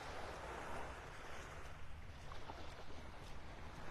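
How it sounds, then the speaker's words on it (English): Incoming tide washes onto a beach in North Naples, Florida, a soft continuous surf hiss with gentle swells rising and falling, faint and distant, with no voices. "The tide is coming in now."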